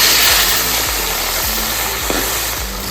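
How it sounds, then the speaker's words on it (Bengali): Katla fish fries in hot oil in a kadai, giving a loud, steady close-up sizzle with faint stirring knocks underneath. "তেল গরম হয়ে গেছে, মাছ দিয়ে নিচ্ছি"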